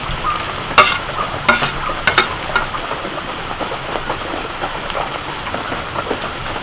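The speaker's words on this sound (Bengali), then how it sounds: "চাল ডাল ফুটতে শুরু করেছে এখন ভাজা সবজিগুলো দিয়ে দিচ্ছি" Khichuri of rice and lentils, just come to the boil, being stirred after fried vegetables are added: loud scraping spoon strokes in a quick cluster early on, over a continuous bubbling sizzle that carries on steadily afterward.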